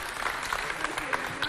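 An audience applauds at an event promoting tourism, crafts and art, a dense spread of clapping heard up close under a talking voice for a second and a half.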